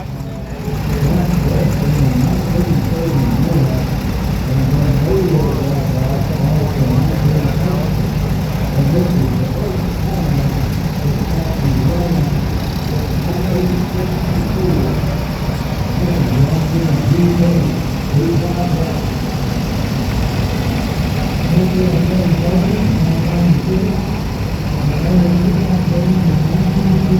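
An old tractor engine runs steadily and loudly throughout, a continuous low rumbling drone close by, with no clear changes in pace.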